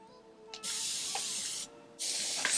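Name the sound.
spray bottle misting water on hair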